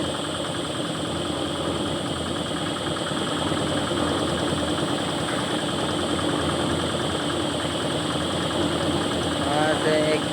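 A motorbike engine runs on the road to Sileru near a river bridge, a steady mid-pitched hum that stays fairly even and moderately close, with faint background activity and no clear approach swell.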